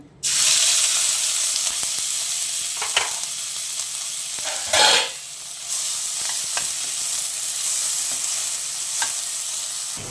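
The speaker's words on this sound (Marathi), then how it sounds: "आपला कांदा परततोय" Onion fries in about six spoons of oil for prawn masala, giving a constant loud hiss of sizzling. Occasional stirring scrapes sound in the pan, with one brief louder burst of steam near the middle, close by and with no talk.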